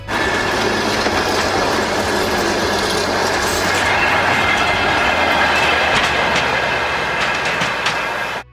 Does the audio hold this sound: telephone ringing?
no